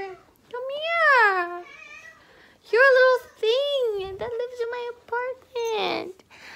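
A cat meows repeatedly at close range, several long drawn-out cries with short pauses between them.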